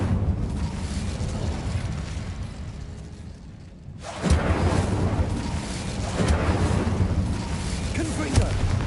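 A fire spell erupts in the video game Hogwarts Legacy, a sudden booming whoosh of flame after a quieter lull, followed by sustained loud roaring crackle over game ambience.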